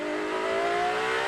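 Onboard an IMSA race car at the Indianapolis Battle on the Bricks, spinning under braking on cold tires: a loud, steady engine drone with a whining tone, continuous throughout and with no talk.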